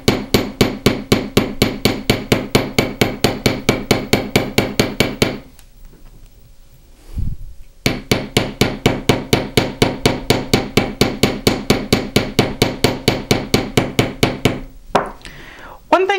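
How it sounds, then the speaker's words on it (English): Rapid, steady hammer blows texturing fine silver, a fast ringing tapping that stops briefly for a pause and a single knock, then resumes at the same pace. "Now that I've flattened, I can flip my hammer over and put in some texture."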